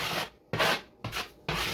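Four rasping scrapes of a blade spreading drywall mud across a wall to fill a patch before painting, each about a third of a second long with brief pauses between them.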